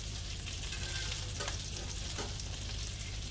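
Butter melts and sizzles in a pan for keto Asian-style lemon chicken, a constant close frying hiss with faint scraping movement throughout and no talking.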